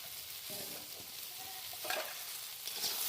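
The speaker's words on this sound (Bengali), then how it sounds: "এবার এটাকে ভাজা ভাজা করবো।" Garlic and chopped onion sizzle in a hot pan with salt, a steady close frying hiss with a few stirring scrapes over about three seconds, no talking.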